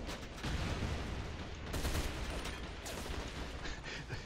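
Gunfire in ZMR Assault Ops during a boss fight, a steady, fairly faint rattle of shots with a few sharper bursts over busy game noise.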